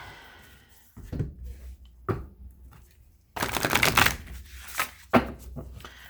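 Oracle cards being shuffled in bursts of close, papery riffles and flicks, with quiet pauses between bursts and a longer, louder shuffle in the middle.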